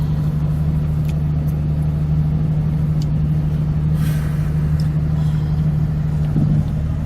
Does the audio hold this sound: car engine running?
yes